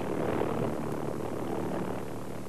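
A V-1 flying bomb's pulse jet engine drones with a steady, loud, continuous buzz, unbroken and alone.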